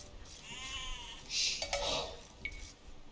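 Sheep bleat in the Age of Empires video game, a couple of short wavering calls with a brief clink near the end, quiet and close over faint background.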